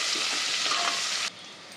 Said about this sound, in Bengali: তেলের মধ্যে দিয়ে দেবো শুকনো পেঁয়াজ একটু ভালো করে নাড়াচাড়া করে নিতে হবে